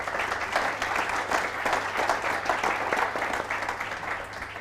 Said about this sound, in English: could we have a round of applause to welcome in our panel?